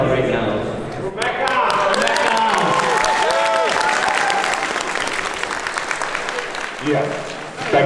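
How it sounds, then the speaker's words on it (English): A convention panel audience at Anime North bursts into sustained applause and cheering for a Fire Emblem YouTuber panel, a dense wash of clapping filling the room for several seconds, with voices mixed in. "we could get a round of applause for Mecca"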